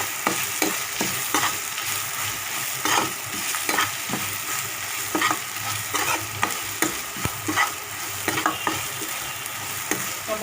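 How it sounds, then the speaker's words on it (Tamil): Grated coconut sautéing in a pan with urad dal, curry leaves and asafoetida, a steady close sizzle of frying under repeated scraping stir strokes, no voices. "அடுத்தது வந்து தேங்காய். இது நல்லா வதங்கணுங்க."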